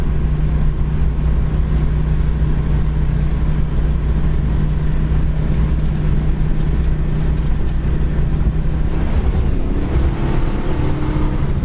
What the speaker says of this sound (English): Car runs and drives great down the road.